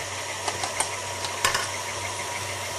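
An electric mixer whirs steadily while blending Libby's pumpkin batter, a continuous motorized hum with a few light clicks from the beaters against the bowl.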